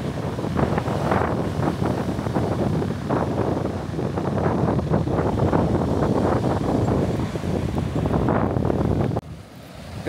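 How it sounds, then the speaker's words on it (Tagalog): Ocean waves crashing and churning under strong wind, a loud continuous roar with gusts buffeting the microphone, close by and sustained before dropping away abruptly at the very end. "Grabe alon na yun ah"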